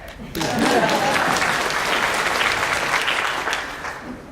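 An audience claps at a keynote event, a brief burst of applause that swells quickly, holds steady and then thins out, with a voice briefly audible near the start.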